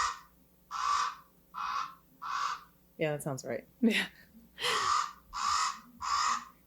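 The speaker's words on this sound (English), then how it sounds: "they make a low croaking sound. Interesting. Here's a raven call." A raven gives a run of harsh, low croaking calls, three in a steady rhythm, then a pause while people talk briefly, then three more loud caws close by.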